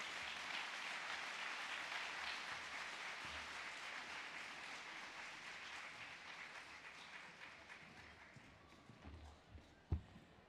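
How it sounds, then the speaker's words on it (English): A conference audience at the Live Well, San Diego! Summit 2012 applauds Supervisor Pam Slater-Price, a sustained roomful of clapping that gradually thins and fades toward the end, with a single thump near the close. "Let's give a round of applause to Supervisor Pam Slater-Price."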